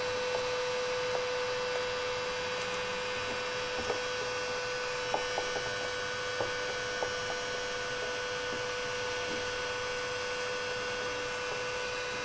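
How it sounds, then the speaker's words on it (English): A vacuum cleaner with a length of tubing attached sucks debris out of a dirty ant outworld for a Camponotus decipiens colony, giving a steady drone with a mains-like whine and a few faint ticks and clicks of bits rattling up the tube. "The Outworld was quite dirty, so I vacuumed it."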